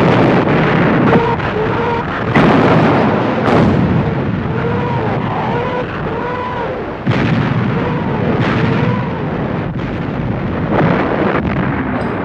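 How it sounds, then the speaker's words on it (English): A German artillery barrage fires before dawn in a dense, continuous roll of heavy booms, one blast overlapping the next, with wind buffeting throughout. "Before dawn on the 16th of December, the Germans fired an intense barrage."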